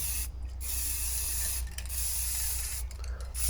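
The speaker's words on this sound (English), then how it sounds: "And the spray the underside also." Aerosol spray paint hisses steadily onto a part of a McCulloch Virginia petrol hedge trimmer, including its underside, in a close, continuous spray with a few brief pauses between bursts.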